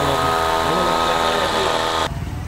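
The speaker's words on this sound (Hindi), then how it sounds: "पंचर वाली शॉप पर आया हूँ और ये डाल रहे हैं बाइक में हवा" Air compressor filling a motorbike tyre at a roadside puncture repair shop, a loud steady mechanical hum and hiss that cuts off abruptly near the end, leaving a quieter background.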